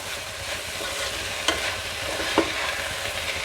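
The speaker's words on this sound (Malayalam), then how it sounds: "നന്നായി ഒന്ന് ഇളക്കി കൊടുക്കുക" A large pan of drumstick leaf thoran being stirred, a continuous scraping rustle over a soft sizzle, with two sharp clinks of the spoon against the pan, close and alone with no talk.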